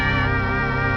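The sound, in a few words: soft piano and harp presets, Reverb Machine and Keyscape grand piano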